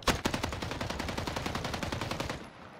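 Gunfire on the Caldera map in Warzone Pacific: a fast, steady automatic burst of about twenty-five evenly spaced shots, loud and close, then a short fading tail, with no talk.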